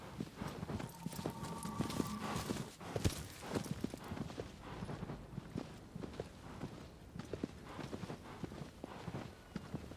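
Horse hooves clip-clop in the video game Shadow of the Colossus, a steady run of close, crisp hoofbeats continuing throughout, with a brief neigh early on.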